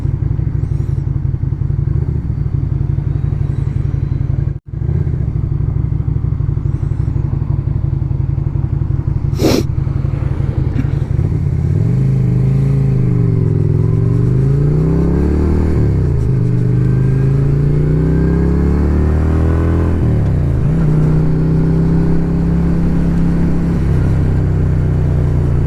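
Lifan Lycan 250 motorcycle ridden on a winter road, its engine droning loudly and steadily up close, with pitch rising and falling through gear changes and revving, plus a brief thump partway through.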